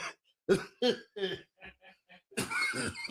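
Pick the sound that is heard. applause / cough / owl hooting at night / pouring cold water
cough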